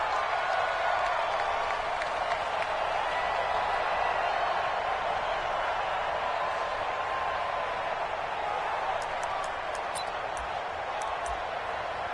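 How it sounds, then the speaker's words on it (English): A large crowd at a New York Jets football game against the Austin Bats cheers and applauds in a steady, continuous roar that holds at the same level from start to finish. "This crowd is ready as their guys get set to match up"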